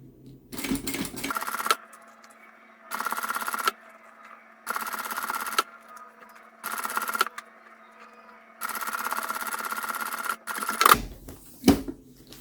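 Bursts of a sewing machine stitching a seam on a small fabric thread-holder pouch, a fast steady hum-rattle starting and stopping several times with short pauses, followed by a few clicks and knocks.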